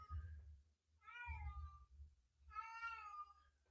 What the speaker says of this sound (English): I don't know if you guys can hear my cat yowling in the background